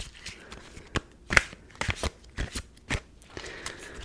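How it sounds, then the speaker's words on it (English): Tarot cards riffle and snap in short bursts, a handful of quick shuffles close to the ear with brief pauses between them. "Ooh, the shuffling sounds are so nice."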